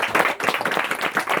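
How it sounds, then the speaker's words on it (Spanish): A church congregation claps together in a brief burst of applause, close and dense with rapid, slightly uneven hand claps. "Denle un aplauso al Señor."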